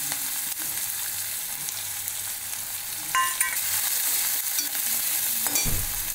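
Chopped onions fry in hot oil with asafoetida for chhole sabzi, a soft continuous sizzle with occasional stirring scrapes and a brief louder clatter near the end.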